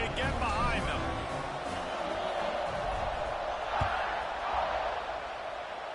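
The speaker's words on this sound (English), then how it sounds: "this crowd now ready to get behind them" Stadium crowd noise in the NCAA 26 college football video game gives a continuous roar with swells of cheering, under a play-by-play commentator's talk.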